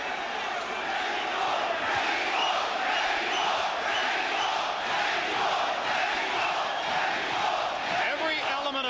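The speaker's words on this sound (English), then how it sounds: "Every element of crowd noise you hear, the chants, the cheers, the spontaneous eruptions" Boxing arena crowd at a big 1998 Erik Morales vs Junior Jones fight, a dense, sustained roar of chanting and cheering with shouting voices rising and swelling throughout, loud and continuous.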